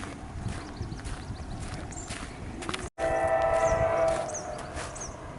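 A train rumbles in the distance under gusty wind near a nature trail in Calcium, New York; partway through a long horn blast with several tones sounds out, fading after a moment.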